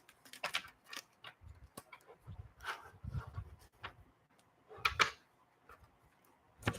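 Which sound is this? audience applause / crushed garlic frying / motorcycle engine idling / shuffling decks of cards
shuffling decks of cards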